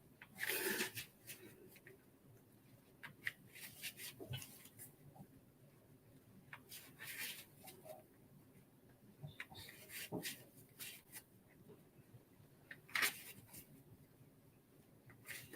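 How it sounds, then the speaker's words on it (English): Tarot cards shuffled during a numerology reading: soft, irregular riffles and slaps come in short bursts with quiet gaps between, close but faint, and no one speaks over them. "I started to shuffle the cards even faster"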